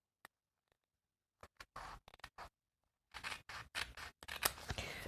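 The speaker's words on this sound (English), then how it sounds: "I'll just take the scissors and we'll kind of trim this off neatly now" Scissors snip and trim wide washi tape in a quiet room, a few isolated crisp cuts at first, then a quick run of repeated snips and scratchy rustles close by.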